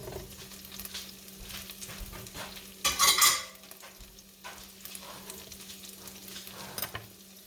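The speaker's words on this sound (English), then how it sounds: "We are going to put the round steak in" Beef round steak searing in a pressure cooker, a continuous sizzle with scattered scraping and clinks of a utensil against the pot, and one louder, brighter burst of hissing in the middle.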